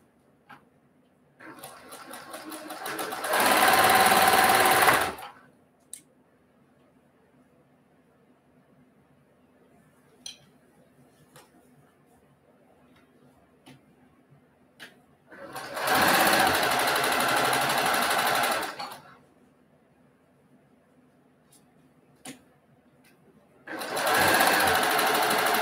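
Sewing machine stitching rows of a quilt block, running steadily in three long loud bursts of a few seconds each, separated by quiet gaps with faint handling noises.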